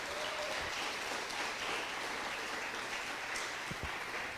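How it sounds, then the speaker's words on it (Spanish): A church congregation claps together, a steady wash of many hands applauding in a reverberant room, with a few louder thumps near the end and no speech over it. "¿Cuántos le dan un aplauso al Señor?"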